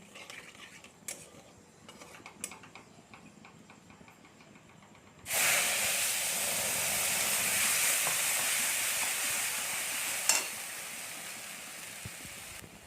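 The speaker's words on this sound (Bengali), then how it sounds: "পেঁয়াজ রসুনের যে পেস্ট করে নিয়েছে পেস্টটা দিয়ে দেবো" Onion and garlic paste for a sour bata fish curry hits hot oil halfway through and sets off a sudden loud, hissing sizzle that holds steady. Quiet kitchen clatter comes before it.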